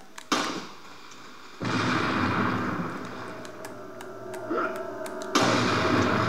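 An explosion in the video game Resident Evil 4 sounds as a sudden loud burst followed by a rumbling roar. Sharp clicks and another abrupt blast come near the end.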